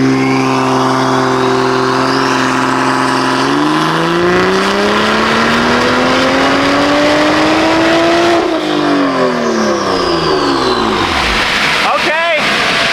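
Toyota Supra engine, tuned past 600 horsepower, revs hard on a dyno. Its pitch climbs steadily through a long pull, then drops away as it winds down, loud and close throughout, with a voice talking faintly underneath.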